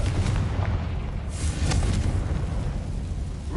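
A Confringo spell explosion in the PS5 game Hogwarts Legacy: loud, sustained booming rumble with scattered blast bursts, filling the moment without talk.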